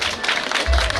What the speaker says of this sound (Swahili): Simpigie makofi hata yeye.